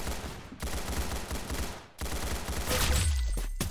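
Gunfire in the Roblox shooter Arsenal: fast automatic fire crackles in dense, loud bursts with short gaps, ending in a heavier blast near the end, close and continuous.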